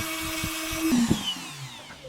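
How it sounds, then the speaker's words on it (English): A Dremel rotary tool smooths the arm of an action figure, giving a steady high-pitched whine with slight pitch shifts as it bites into the plastic, close and continuous. "So I'll smooth them out with a Dremel."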